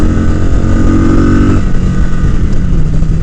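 Kawasaki Vulcan cruiser motorcycle engine running steadily while riding, a loud, close, continuous low rumble that shifts pitch briefly midway as the revs change, with no talking over it.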